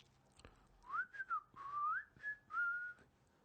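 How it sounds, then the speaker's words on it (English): A person whistles a short, wavering tune of several sliding notes, close and clear, with a quiet background and no speech. "I don't whistle, but I can whistle better than that."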